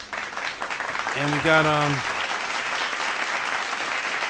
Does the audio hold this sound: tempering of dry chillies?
no